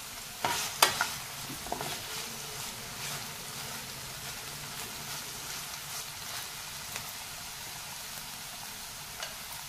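Mixed vegetables cook covered in a pan over a low gas flame, making a soft, quiet sizzle with a few sharp clinks and stirring knocks near the start, then a calm steady hiss.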